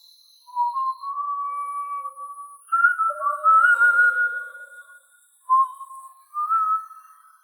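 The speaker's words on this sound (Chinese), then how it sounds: "熟悉的口哨声再次响起" A person whistles a slow, eerie tune in a wheat field at night, with clear sustained notes across several phrases and short pauses between them, heard alone in silence.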